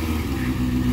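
Motorcycle engine droning nearby in the morning, a steady mid-pitched hum over a short stretch.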